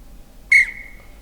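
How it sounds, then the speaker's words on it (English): A whistle in the survival video game DayZ sounds once, a short loud shrill blast that trails off into a thinner sustained tone, alone against near silence. "just stand on a car, whistle in every direction, and see what lovely loot the zombies bring you"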